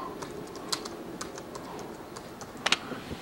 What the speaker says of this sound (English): I'm just going to type Hello World